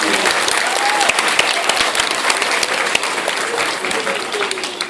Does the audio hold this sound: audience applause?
yes